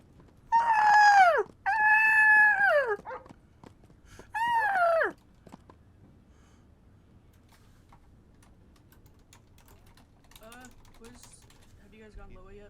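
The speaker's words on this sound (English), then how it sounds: "Police canine call out." A police dog in Grand Theft Auto V barks and howls in three loud, drawn-out bursts early on, followed by quiet background game noise with faint clicks and a few soft distant cries.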